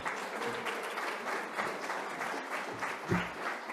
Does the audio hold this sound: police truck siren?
no